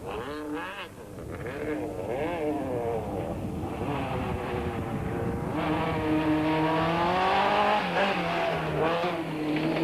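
A Class B Golf 16-valve GTI rally car runs a stage at the 1993 Mountain Trail rally, its engine revving up and down through gear changes with rising and falling whine, loud and close throughout.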